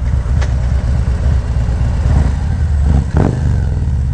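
Harley-style motorcycle fitted with a Screaming Eagle cam, loud close engine rumble with sharp downshift blips and popping bursts near the start and end, lumpy idle-like chop in between.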